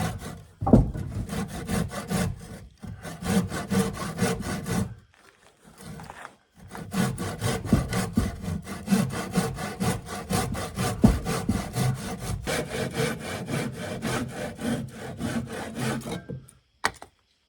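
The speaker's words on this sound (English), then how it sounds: "I'll finish it off with a handsaw." A handsaw cuts through a wooden fascia board in steady back-and-forth strokes, close and rasping, with a couple of brief pauses before the rhythmic sawing resumes and runs on to the finish.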